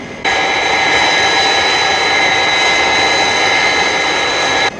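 A Thunderbirds jet engine roars on reheat, a loud, dense, sustained afterburner blast that starts abruptly and holds steady without a break.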